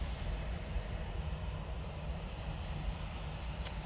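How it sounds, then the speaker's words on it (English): A TUI Boeing 737-800 sits lined up at Manchester Airport, its jet engines giving a faint, steady distant rumble with a low drone and no voices. "TUI 737-800 lined up, ready to go to Agadir."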